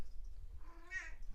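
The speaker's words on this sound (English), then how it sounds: "Oh, that was my cat." A domestic cat meows once in a room, a single drawn-out, fairly faint call rising and falling in the middle, with a quiet low hum underneath and no one speaking.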